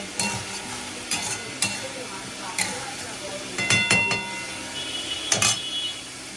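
Fish frying in a pan gives a steady sizzle and hiss, broken by clinks and stirring scrapes at irregular intervals.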